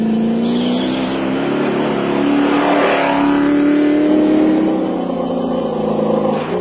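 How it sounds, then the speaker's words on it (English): A Land Rover off-road race vehicle with a big V8 engine roars loudly and continuously, revving with a rising and falling pitch as it drives past close by at an off-road race. "Cliff Barker and Martin Joubert in the SVM Land Rover with a big V8 motor sounding healthy."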